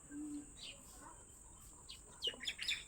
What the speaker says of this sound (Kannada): ನಮ್ಮ ಮನೆ ಹತ್ರ ಜಾಸ್ತಿ ಪಕ್ಷಿಗಳೆಲ್ಲ ಕೂಗ್ತಾ ಇರುತ್ತೆ